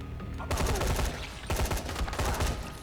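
Bursts of M4-style rifle fire in the video game Dying Light, two loud rapid volleys of close automatic shots echoing down indoor corridors, with a short gap between them.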